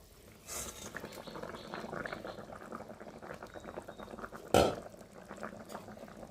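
Fish curry with potatoes and fried fish boiling in a pan, a steady close bubbling and simmering, broken once by a sharp clatter of the spatula against the pan.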